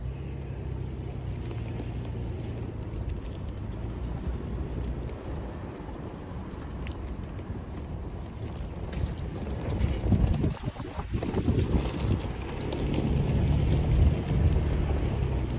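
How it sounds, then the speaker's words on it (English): A car rolls along a rural ranch lot road, its low steady engine and tyre rumble mixed with wind buffeting the microphone, swelling somewhat louder in the later half with no voices. "We're driving back, and we're going to go up into"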